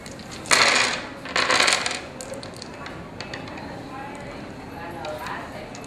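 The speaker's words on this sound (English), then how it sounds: "here's your energy field right here where you roll your dice" Dice for the Capes and Villains board game clatter across a tabletop in two quick rattling bursts, then a quiet room with faint background noise follows.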